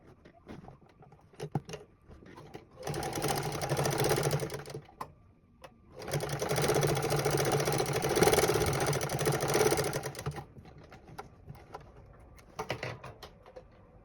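Sewing machine stitching together the back pieces of a pair of shorts, running in two long steady bursts of rapid mechanical whirring with quieter handling sounds between them.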